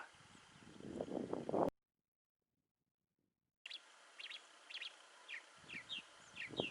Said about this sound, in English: There's a phainopepla.